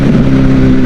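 A four-cylinder Porsche engine revs hard at full throttle, loud and close, with a sustained high-pitched roar that holds steady through the short burst.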